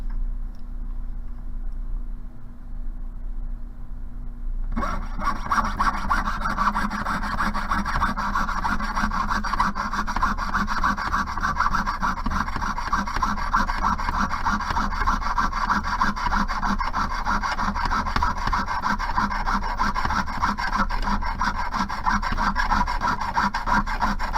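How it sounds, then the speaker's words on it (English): Metal file rasping a burr off a cut piece of a flatware fork for an upcycled bracelet, starting after a few quiet seconds, then continuous close scraping strokes in a steady back-and-forth rhythm. "I have a little burr here that I need to file off"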